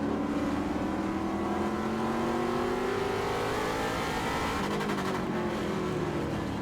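A Ford Mustang Trans Am race car at Portland International Raceway, its engine loud and droning with pitch climbing and shifting as the car accelerates, among other race engines.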